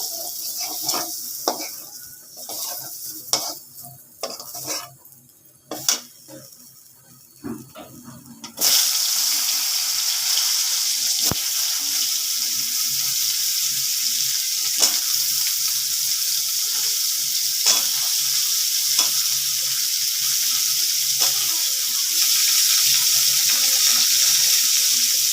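Potatoes frying in a pan for a vegetable dish. Scattered clinks and taps of stirring come first, then a loud, constant sizzle takes over and holds to the end, with occasional scrapes.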